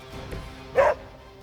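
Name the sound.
dog barking while attacking in Marvel's Midnight Suns video game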